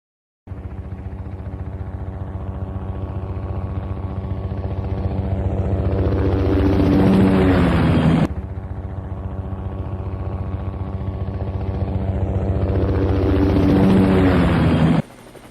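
Helicopter rotor thudding steadily for about fifteen seconds, growing louder as if approaching, with a sharp break midway before the same loud beating resumes, no talking.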